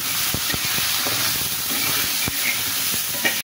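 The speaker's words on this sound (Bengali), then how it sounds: "লবণ, একটু মরিচের গুঁড়া দিয়ে আমি ভালো করে ভেজে নেব।" Fish seasoned with salt and chili powder fries in a pan, with a loud, steady sizzle and hiss punctuated by sharp clicks and taps of stirring.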